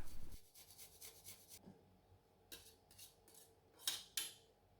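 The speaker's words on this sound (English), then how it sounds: "now I'm going to grate in a clove of garlic" Garlic clove rasped on a grater into a sweet and smoky sauce, a quick run of faint scraping strokes followed by a few clinks and taps, close and quiet.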